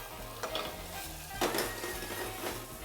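Potatoes tipped into a hot pan of sizzling ginger while making samosas, with steady frying sizzle, stirring scrapes and a couple of clanks of utensil against the pan, close and fairly quiet, no talk.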